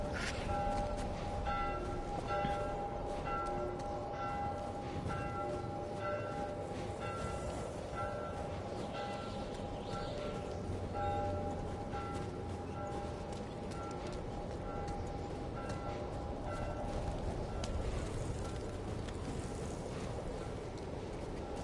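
Bell tolling in The Last of Us Part 1 video game, steady rings repeating at an even pace over a dense, rumbling ambient background, distant and fairly faint, with no talking.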